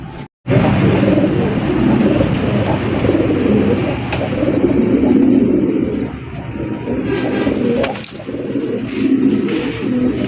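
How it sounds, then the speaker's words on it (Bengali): A red Bombay pigeon, a prized local fancy breed, cooing repeatedly in low throaty rolls, fairly close and loud, with no talking. "এটা হচ্ছে আমাদের দেশি বোম্বাই কবুতর"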